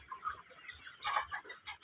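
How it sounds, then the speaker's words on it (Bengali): Frightened chickens, scared by the heat, cluck in a short, fairly faint burst of overlapping calls from a group of hens, with no talking. "এই যে এখানে আছে অনেকগুলো মুরগি, ভয় পেয়েছে"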